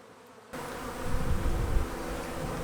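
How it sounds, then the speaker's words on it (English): Honey bees at a bee farm swarm around in a dense, continuous buzz that rises suddenly and stays loud and close, many insects droning together with no talking. "there's a bunch of them flying around"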